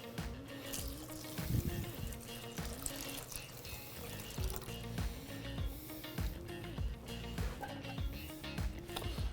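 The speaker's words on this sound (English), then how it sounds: "We're gonna add to that 4 cups of water, equal to 1 quart of water." Tap water runs and pours into a cooking pot holding two cups of rinsed quinoa, four cups in all, a steady splashing stream with uneven surges, fairly close and moderately loud, with no talk.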